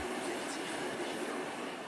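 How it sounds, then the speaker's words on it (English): A train winds through mountain countryside, a steady rumbling roll of carriages on the rails that holds at an even, moderately loud level throughout. "The train winds through the mountains."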